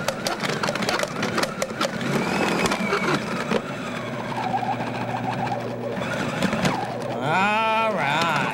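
Food processor with a shredding blade working through Jack cheese, a loud labored motor whine with crunching and rattling from the processing, and a voice briefly talking over it.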